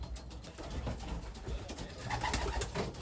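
Racing pigeons cooing at their loft after a 100 km race, soft repeated coos close by over a noisy, rustling background.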